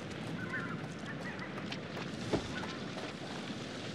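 Loud bird honks in the horror video game The Devil in Me, a few goose-like calls over a windy ambient background, with one sharper burst midway and no talking.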